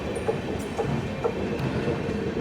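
A passenger train rolling on the rails out of Kayamkulam Junction onto the Kottayam line, a steady loud rumble with faint periodic wheel clicks at rail joints, no voices.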